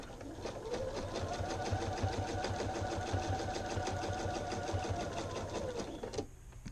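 A sewing machine runs steadily, stitching pocket fabric onto a pair of pants, its rapid mechanical needle rhythm close and continuous for several seconds before stopping abruptly near the end.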